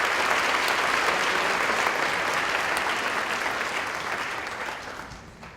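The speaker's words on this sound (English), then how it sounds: "Let's give these 6 tribal leaders a round of applause." Loud, dense applause from a large audience at a 4-H leadership banquet in Georgia, a steady wash of clapping that holds strong and then gradually fades toward the end.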